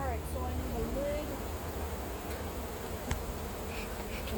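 Honey bees drone in a soft, continuous buzz around an open hive, fairly faint and close, with a brief voice near the start.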